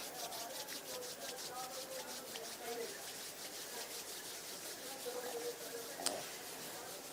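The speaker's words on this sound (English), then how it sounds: "Gently bring the palms together at chest level and rub the palms of the hands against each other." Palms of the hands rub against each other at chest level, producing a soft, steady, rhythmic swishing friction that is close and faint, with no talking.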